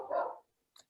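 A single short dog bark, faint and slightly muffled as if through a phone or computer on a video call, followed by a brief tiny click.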